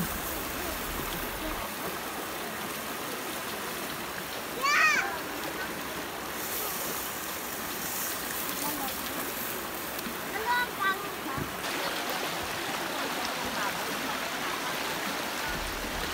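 A river stream flows steadily in a rural province setting, a continuous broadband wash of moving water with a couple of brief splashes, close and moderately loud, with no talk.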